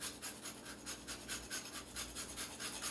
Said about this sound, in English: Going to zest some lemon, just a little bit, over top of these berries.